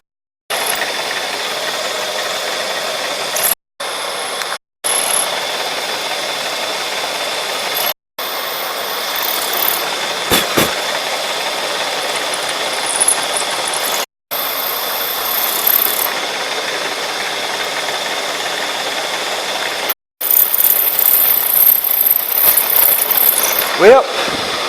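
Holes being drilled during a build of a 1650 Cub Cadet four-wheel-drive tractor: loud, close, sustained runs of a whirring power tool, separated by brief silent pauses, with a faint clatter near the end.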